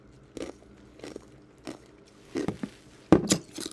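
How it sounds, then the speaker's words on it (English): Ice is bitten and chewed close to the mouth, with sharp separate crunches spaced about a second apart at first, then louder clustered cracking toward the end, without any talking. "Y'all know I love me some ice eating."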